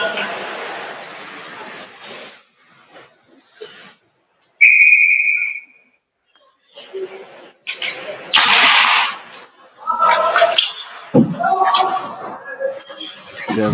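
A referee's whistle gives a single sharp blast during an ice hockey game, set among rink noise and a commentator's voice talking before and after it.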